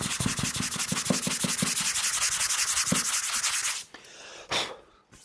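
Close, loud sanding on a guitar body being shaped around straight ferrules, a rapid rhythmic back-and-forth rasp that runs steadily for several seconds, then breaks off into a few short scrubbing strokes.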